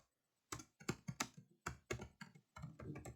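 Rapid bursts of typing on a computer keyboard, close and crisp, with clustered key clicks separated by brief pauses in an otherwise quiet room.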